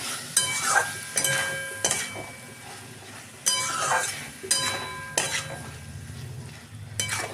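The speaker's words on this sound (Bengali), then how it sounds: "আর তার সাথে চিংড়ি মাছটাও দিয়ে দেবো।" Shrimp cooked with papaya in a pan, stirred in bursts: a spoon scrapes and clinks against the metal several times over a soft sizzle, with short pauses between strokes.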